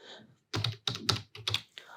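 Taps on an iPhone's on-screen keyboard while a contact name is typed, several short close clicks in uneven bursts with brief pauses between them.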